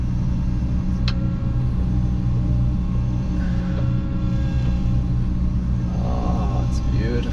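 An engine runs steadily with a deep, continuous rumble as a restored vehicle drives forward, close and loud throughout.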